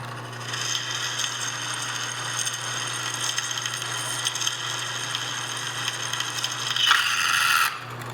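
A steady, grinding drill whine runs throughout, then swells into a brighter, harsher burst near the end as the sharp bit breaks through the back of the workpiece, before abruptly cutting off.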